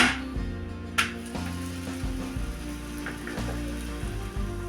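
Akki roti, a thin patted rice-flour flatbread, fries in a little oil on a pan with a steady soft sizzle, a brief sharp crackle near the start and low kitchen hum underneath, no one speaking.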